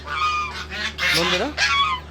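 Loud, nasal honking calls from several ducks, coming in quick overlapping bursts close by.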